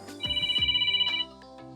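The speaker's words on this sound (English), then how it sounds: "That is my alarm, I apologize." A phone alarm rings close by, a bright electronic tone pulsing rapidly for about a second, with some thumps and shuffling around it.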